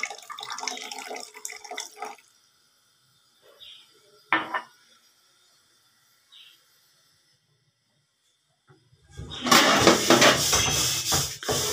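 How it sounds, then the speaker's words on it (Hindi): Metal spoon scraping and clinking in a pot as vinegar is stirred into hot milk for homemade mozzarella, with a few faint taps through a quiet stretch and a louder burst of scraping and liquid noise near the end. "और धीमे धीमे से ना इसको चलाना है चम्मच को।"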